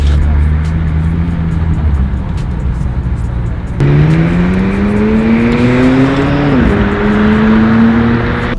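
A McLaren 600LT supercar drives at low speed with a steady engine drone, then the pitch rises as it pulls away, heard nearby with some background noise.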